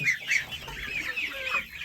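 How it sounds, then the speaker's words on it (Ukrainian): Chicks and chickens in a farmyard poultry pen make close, bright peeping chirps mixed with a few soft clucks, steady and overlapping. "Ось, яка тут курчатка"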